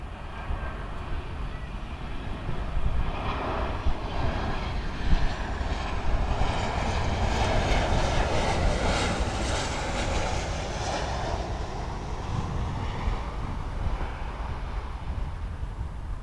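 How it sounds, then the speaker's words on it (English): An Aerolíneas Argentinas Airbus A330 airliner at Miami Airport makes a loud, sustained jet engine roar that swells through the middle and then eases, heard from nearby outdoors over a continuous rumble. "And then behind, the Aerolíneas Argentinas 330."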